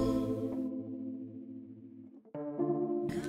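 Whirling, chorus-drenched synth sound built in Ableton for a pop production, a sustained swirling chord that shifts pitch midway and brightens again at the end, heard alone and up close.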